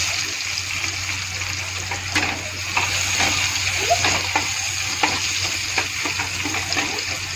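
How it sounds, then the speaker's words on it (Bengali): Onion frying in a pan gives a steady, close sizzle, with occasional scraping taps of stirring over a low electrical hum. "পেঁয়াজটা ছেড়ে দিয়েছি"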